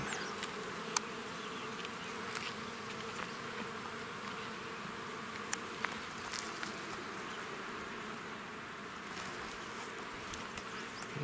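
Honey bees hum at an open hive frame in a dense, steady drone, close and continuous, with individual bees occasionally buzzing past the microphone.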